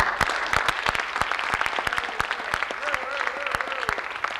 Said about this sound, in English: So I give a big round of applause to the stage people here tonight.